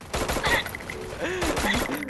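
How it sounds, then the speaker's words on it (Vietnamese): Rapid gunfire from characters shooting in the mobile battle game Garena Free Fire, dense bursts of shots across the clip with game effects mixed in. "Coi hai con tử thần bắn đánh nhau."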